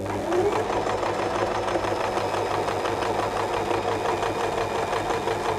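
A sewing machine runs a straight stitch at the shortest stitch length, a steady, close, rapid mechanical chatter with a fast even rhythm that continues without pause for the whole stretch.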